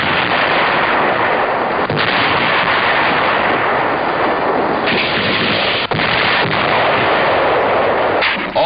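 Dense, continuous roar of artillery fire from 1944 air and naval bombardment, loud and sustained with a few sharper blasts standing out, no voices, heard through a band-limited old war-footage recording.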